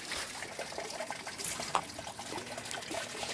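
Water trickles and pours steadily into an empty sluice box set up for gold prospecting, a continuous close splashing with a few small clinks.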